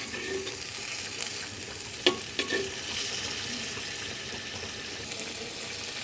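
Soybean curry cooked vegetarian-style sizzles steadily in a pan while being stirred, with a few sharp scraping clicks of the spoon near the middle and no voices.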